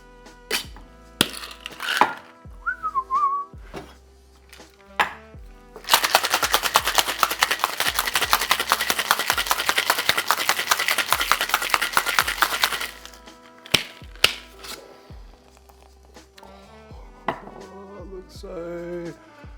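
A cocktail shaker packed with ice, mezcal and fresh espresso is shaken hard for about seven seconds, a dense rapid rattle of ice, framed by scattered clinks and knocks of bar tools before and after.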